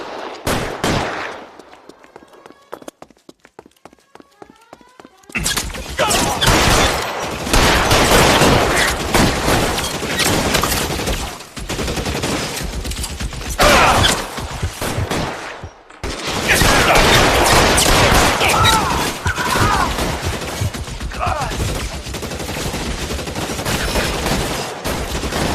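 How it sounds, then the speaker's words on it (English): Dense, loud bursts of rapid gunfire from a shootout in the 1940s Los Angeles detective video game LA Noire, during the Nicholson Electroplating case. Sustained volleys run for several seconds at a time, with only a short gap between the long stretches of fire. "Suppressing fire."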